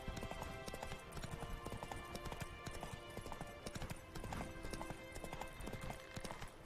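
Horse hooves clip-clopping in the video game Witcher 3, a steady trotting rhythm running throughout, close and prominent over game music and ambience, with an occasional brief whinny.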